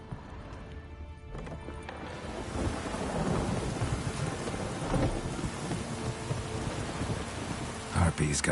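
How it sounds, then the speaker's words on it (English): A thunderstorm with rain sweeps through a Witcher video game scene, a dense rumbling wash of rain and thunder rising after the first couple of seconds, mixed with hoof clops and horse sounds. "A storm, damn it."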